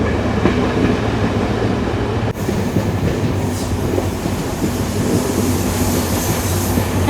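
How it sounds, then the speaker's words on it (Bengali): The Jaffna–Colombo Intercity Express runs on its rails with a loud, steady rumble and clatter of wheels, a sharp jolt midway, then continuing without speech. "পুরো ঘুরছে ট্রেনটা।"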